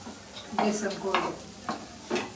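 Besan is stirred and cooked on a hot tava. Four distinct spatula scrapes sound close over a soft continuous sizzle.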